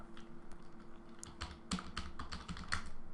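Rapid, irregular clicking of fingers typing on a computer keyboard, close and fairly quiet, with a few sharper keystrokes standing out and no voices.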